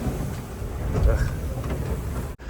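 Steady wind roar and rushing water from a sailboat beating upwind into waves, a continuous loud low rumble with wind buffeting on the microphone and a brief dropout near the end.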